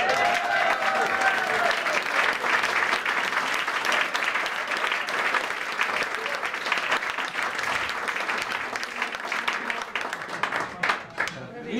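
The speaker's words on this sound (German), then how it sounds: "gebt ihm nochmal einen Applaus" Crowd applause at a Basel Fasnacht carnival show, loud and dense from the start, holding steady before thinning out into scattered claps at the close.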